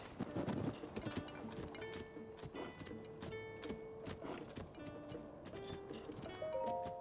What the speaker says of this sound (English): Isn't that the golden horse that ran away from our stable?